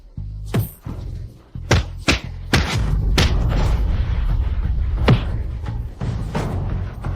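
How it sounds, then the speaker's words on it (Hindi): A door is smashed in during a gang fight: several loud, sharp slams and heavy thuds land at irregular intervals over a constant rumbling din, with no clear talk. "बाओ भाई, पिछला दरवाजा भी टूट गया है"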